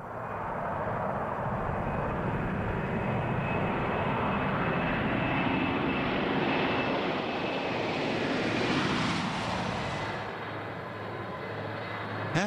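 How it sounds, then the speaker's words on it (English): A Boeing 747 jet climbs away on a test flight, its engines a broad, continuous roar that swells and sweeps past, then fades slightly toward the end, heard alone without any talking. "The first time this giant jet takes to the skies, it is flown by a Boeing test pilot."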